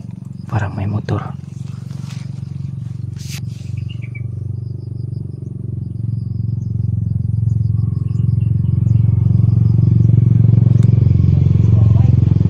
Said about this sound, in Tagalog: may mga dumadaan na mga motor.